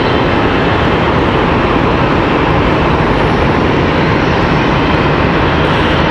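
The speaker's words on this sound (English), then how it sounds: "Hey, we got a United" United Express airplane departing Charlotte Douglas airport, a loud, dense, continuous engine roar holding steady from start to finish at close range.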